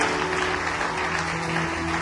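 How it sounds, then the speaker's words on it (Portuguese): Church congregation applauding during a worship service, a dense, steady wash of many hands clapping that stays loud and even for the whole couple of seconds. "Vamos aplaudir o Senhor por isso, amado."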